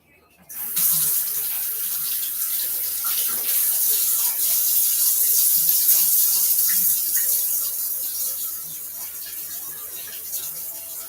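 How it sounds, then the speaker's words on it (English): A household tap is turned on and runs steadily into a sink while hands are washed, a close, loud, continuous rushing hiss that eases slightly toward the end. "I am going to have to wash my hands before I continue"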